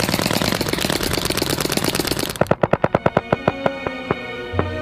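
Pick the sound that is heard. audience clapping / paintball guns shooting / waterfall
paintball guns shooting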